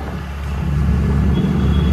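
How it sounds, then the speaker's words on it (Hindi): A car drives along local district roads in India, a steady low engine rumble with road noise holding close and constant throughout, no voices. "चल पड़ी है गाड़ी हमारी जनपद की रोडों में"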